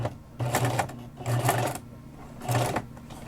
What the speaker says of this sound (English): and then you're going to start stitching.